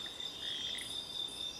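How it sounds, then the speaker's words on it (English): A dense night chorus of insects and frogs in a volcano rainforest, a steady high shrill trill over scattered croaking calls, continuous and moderately faint with no talking. "There's lots of insect noise,"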